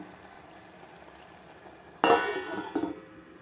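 A lid set onto a clay mud pot of cooking foxtail millet rice: one sharp close clink followed by a brief rattle as it settles, over a quiet background.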